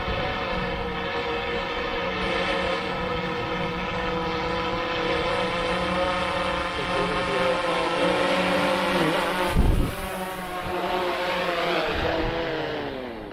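A DJI Phantom 4 Pro V2.0 quadcopter drone hovers and descends to land on a calm, windless day, its loud steady propeller whine and harmonic buzz sustained throughout, with a brief thump and a dip in pitch as it settles near the end.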